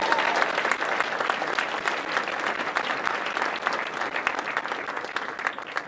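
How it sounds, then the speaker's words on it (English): Steady round of audience applause at a health conference session, dense continuous clapping from a sizeable crowd, moderately loud and unbroken, with no voice on top. "one final round of applause for Dr. Anfeld, the diet doctor."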